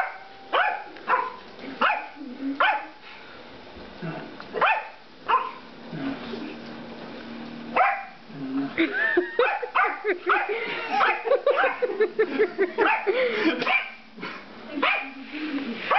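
A dog barks repeatedly nearby, sharp yips coming in irregular bursts, with some yelping and a person's voice in between.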